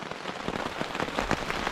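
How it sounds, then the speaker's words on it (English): Heavy rain pours steadily on a tent at a hiking campsite along the Appalachian Trail, a dense, even patter of countless drops close by with no voices. "It is pouring out. It's rained all night"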